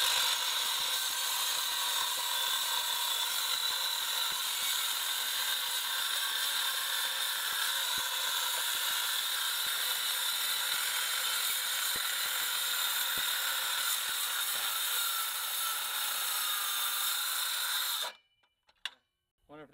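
A hardware-store power saw blade grinds continuously through metal, a loud, steady, harsh rasp that runs unbroken for most of the stretch before cutting off abruptly, leaving brief quiet at the end.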